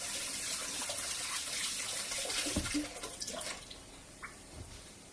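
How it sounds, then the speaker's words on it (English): A kitchen tap runs steadily while hands are washed under it, rinsing oil off after handling potatoes, a continuous close splashing flow that eases off partway through, with a few faint clinks afterward. "Excuse me 1 second while I wash my hands."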